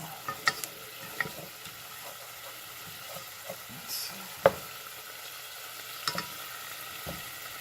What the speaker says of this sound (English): I think I will add the sauce right now